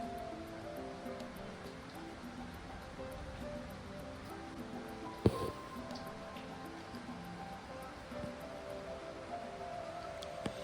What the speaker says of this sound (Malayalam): ഇവിടെ ചെറുതായിട്ടൊരു മഴയുണ്ട്, അതിൻ്റെ സൗണ്ടാട്ടോ ബാക്ക്ഗ്രൗണ്ടിൽ നിങ്ങൾ കേൾക്കുന്ന.